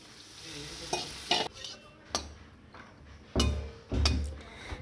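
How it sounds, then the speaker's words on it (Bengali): Eggplant pieces frying in oil seasoned with salt and turmeric powder, with a low steady sizzle broken by several louder bursts of stirring and scraping in the pan. "দিয়ে দিলাম লবণ আর হলুদ গুঁড়ো তারপর একটু মিশিয়ে নিয়ে এর মধ্যে বেগুনগুলো দিয়ে দেবো"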